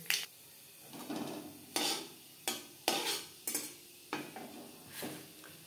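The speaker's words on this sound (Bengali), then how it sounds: "3 চামচ সরষের তেল গরম করে নিয়েছি। ফোড়নে দিয়ে দিলাম 1/2 চামচ কালো জিরে।" Black cumin seeds crackle in hot mustard oil in a pan, a close sizzle punctuated by about eight sharp spoon scrapes and taps against the metal at irregular intervals.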